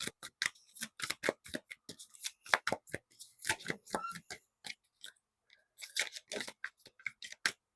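Tarot cards are handled and drawn close up, a fast series of crisp snaps and flicks, with a short quiet gap before the flicking resumes.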